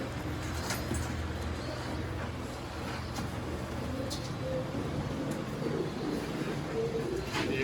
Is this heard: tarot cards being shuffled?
no